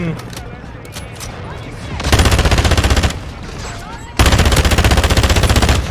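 Automatic gunfire fired from a crouch in Call of Duty: Modern Warfare II, with two loud, rapid sustained bursts separated by a quieter gap, alongside earlier scattered shots and faint voices in the background.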